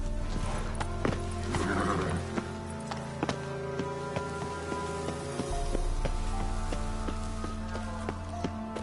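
Hooves of the horse Roach clop at a gallop in a video game, a rhythmic run under rain pattering on surfaces, with a short whinny near the start.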